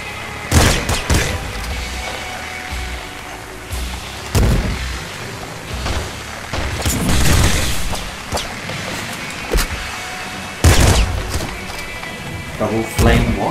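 Shotgun blasts and flamethrower fire in a video game, sharp booming shots at irregular intervals over a continuous roaring hiss, loud and busy, with voices talking over it.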